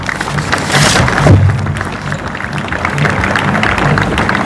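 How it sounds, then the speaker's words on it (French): Applause at an official opening ceremony of a world sport fishing championship, honouring deceased colleagues: a sustained, fairly loud patter of many hands clapping through the hall, steady from start to finish. "je vous demande vos applaudissements s'il vous plaît"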